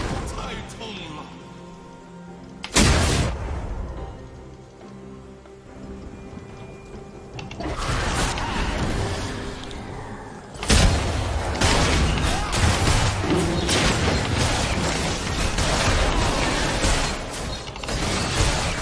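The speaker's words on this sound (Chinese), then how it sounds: "基地要爆炸了。" Base exploding in a Chinese-server video game match, heard as sudden loud crackling blasts at about 3 and 11 seconds, each followed by a dense, sustained rumbling roar of debris and effects.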